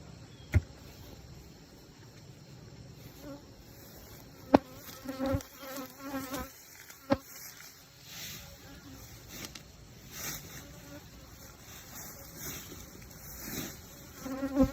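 Honey bees at the top exit notch of a beehive on a hobby farm, a soft steady insect buzz near the hive with a few sharp knocks and clicks over it.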